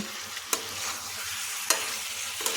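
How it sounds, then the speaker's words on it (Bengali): Paneer is stirred with chili sauce and soy sauce in a hot pan, a continuous loud sizzle broken by three sharp spoon scrapes, with no voices. "এখন সমস্ত সসের সাথে একসাথে ভালোভাবে মিশিয়ে নিতে হবে।"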